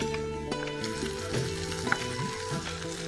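Ginger garlic paste frying in a pan, a steady close sizzle with a few stirring scrapes and a small clink partway through.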